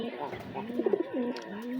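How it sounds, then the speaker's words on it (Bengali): Pigeons cooing at a pigeon farm, a few soft, rolling throaty coos in quick succession close by, with a person talking over them. "সবগুলো কবুতর এখানে আছে"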